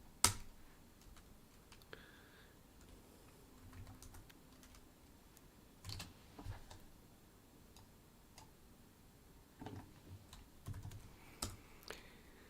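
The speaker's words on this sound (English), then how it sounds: "Keep typing that wrong." Quiet, sparse clicks of a computer keyboard during a live C++ programming session, with scattered keystrokes and short bursts spread out over several seconds in a still room.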